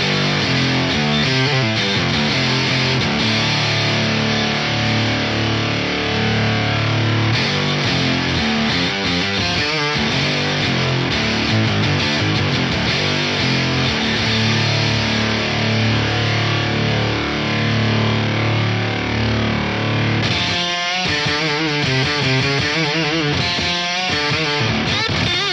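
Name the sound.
multiband distortion on synthesizer sound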